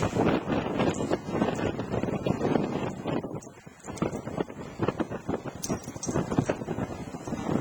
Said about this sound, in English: You hear the wind howling.